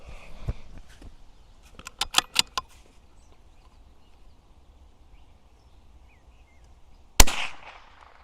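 Rifle shots fired at a long-range target through a scope, a few sharp reports, one early and a cluster of quick cracks, then a single loud shot near the end with a short decaying tail in an outdoor setting.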